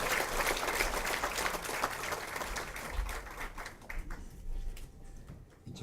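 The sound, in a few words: audience applause welcoming a speaker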